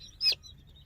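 A single short, high peep from a baby chick being handled for pasty butt cleaning, close and clear against a quiet low hum, with no talking.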